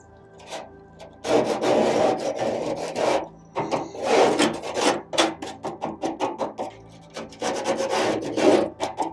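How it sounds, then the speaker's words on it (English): A scraper grinds against baked-on grease caked onto an air fryer, giving loud, rasping strokes in quick uneven bursts with brief pauses between them. "maybe I was aggressively scraping, but my scraper is delaminating."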